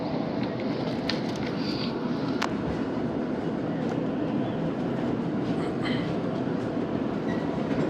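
The Shalimar Express rolls along just after leaving Khanpur, a steady, even rumble of wheels and carriage noise heard from inside an AC-standard coach, with faint clicks and light rattles over the top.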